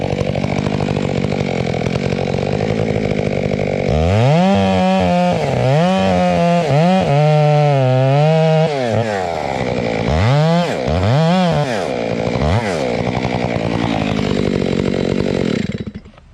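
A chainsaw runs loud and steady throughout while felling a tree too big for its bar, its pitch rising and dropping in repeated sweeps as it cuts into the large trunk, then stopping abruptly at the end.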